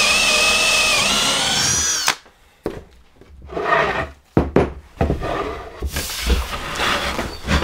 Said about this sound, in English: we drill a hole with the Forstner bit